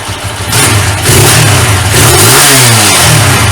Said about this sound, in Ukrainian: Все, заводиться, газує.